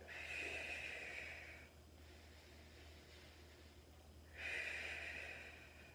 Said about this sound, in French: on va inspirer complètement, expirer complètement